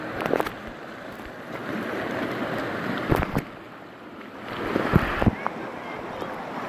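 Rushing white water of river rapids during a kayaking trip at Club Rio at the Springs, Costa Rica, a broad steady roar with wind buffeting the microphone and brief splashes, under intermittent voices.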